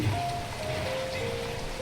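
Rain falls steadily on a forest tribal village, a constant soft hiss of drops on surfaces with a faint low rumble, no talking heard.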